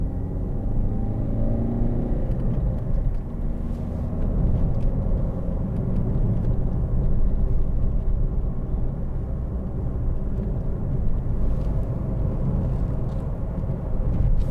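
A 2013 Ford Focus 1.6 TDCi ECOnetic diesel heard from inside while driving on a road, a steady low engine and road rumble holding at an even level with no talk.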